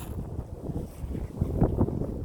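Steady low rumbling wind noise buffets the microphone at a dog park, rising in gusts toward the end, with faint water and boat sounds in the background.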